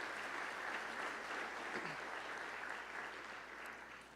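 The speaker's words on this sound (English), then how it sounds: "we would like to give her a round of applause for her" An audience at a scholarship reception gives sustained applause, a dense wash of clapping that stays even, then fades slightly toward the end.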